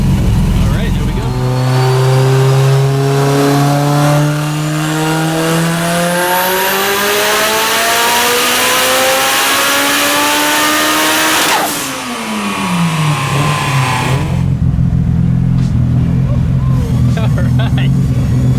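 An 1100 hp sequential Mitsubishi Evo IX four-cylinder on pump E85 at 50 psi boost pulls hard at wide open throttle, a loud, close engine climbing steadily through rising pitch with crisp sequential upshifts, then dropping off sharply before settling into a rough idle.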